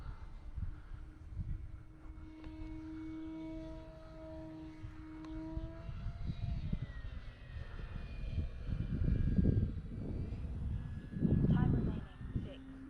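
An E-flite Carbon Z Cub SS radio-controlled plane drones steadily overhead on a cloudy day, its motor tone shifting and swelling as it banks and passes, with a voice talking over it.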